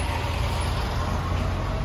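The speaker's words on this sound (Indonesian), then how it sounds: "Jalanan sekecil ini truk segitu gede lewat." A big truck rolls past on a narrow residential street in Providence, Rhode Island, a steady, close, loud engine rumble that fills the whole moment with no voices.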